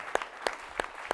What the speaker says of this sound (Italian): Facciamo un altro applauso a tutti quanti